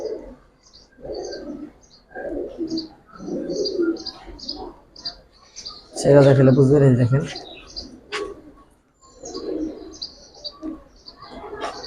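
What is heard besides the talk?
giribaz pigeons cooing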